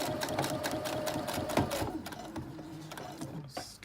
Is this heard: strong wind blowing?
no